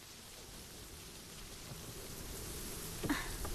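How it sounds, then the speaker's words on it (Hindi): Strong wind blows ahead of rain in a steady, faint rushing noise that swells slightly toward the end. "कितनी तेज हवा चल रही है,"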